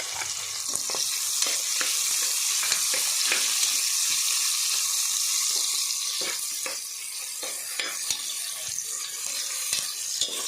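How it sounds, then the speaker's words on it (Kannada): Onions frying in ghee for ghee rice, a loud, constant close sizzle with scattered scraping and tapping of a stirring spoon against the pan throughout. "ನೀರುಳ್ಳಿ ಪಾಡ್ದು ಫ್ರೈ ಮಲ್ಪಲೆ"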